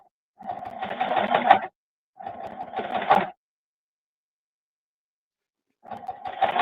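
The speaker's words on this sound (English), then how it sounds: "I love hearing the sewing machine on live." A sewing machine runs in three bursts of stitching, each lasting about a second, with short quiet gaps between them. The whirring, rapid stitching is close and clear, and no one talks over it.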